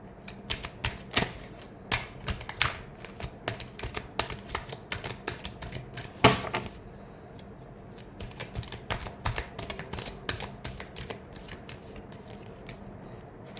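Tarot cards are shuffled by hand up close, a rapid run of sharp papery clicks and riffles in irregular bursts, with one louder flurry midway and quieter gaps between.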